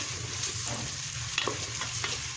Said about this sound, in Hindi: 2 अदद प्याज हैं। हम इसको पूरा ब्राउन करेंगे